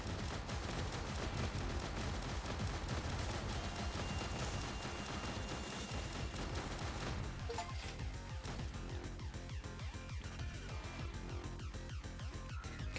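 Rapid automatic gunfire from a machine gun in the Sentinel Girls 2 video game, with dense, continuous bursts of shots and impacts that run throughout and thin into more separated rhythmic shots near the end, with no talk.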